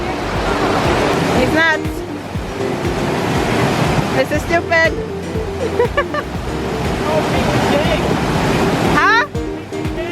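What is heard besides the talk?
waterfall on a rainy day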